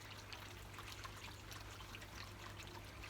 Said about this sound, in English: The plant is leaning right against this, so all the water is dripping down the plant.